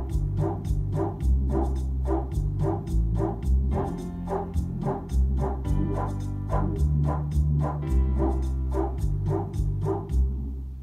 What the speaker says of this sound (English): Here's those dogs in the Latin background.